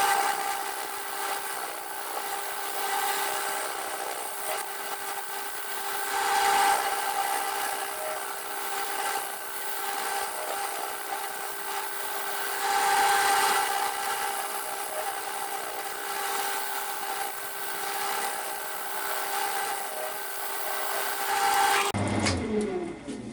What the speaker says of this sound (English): Just going onto a scraper now for a bit.